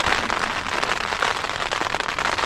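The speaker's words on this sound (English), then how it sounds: "A bit of rain. There's not a lot of rain at this stage." Light rain patters on a tent during strong wind on a solo River Murray journey, a dense, continuous crackling hiss of drops, close and steady with no voices.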